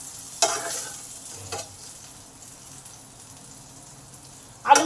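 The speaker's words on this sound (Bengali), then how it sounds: "আলুগুলো আমার ভাজা হয়ে গেছে," Potatoes fry in a pan for a rohu fish curry, a low quiet sizzle broken by three short, loud stirring scrapes near the start, middle and end.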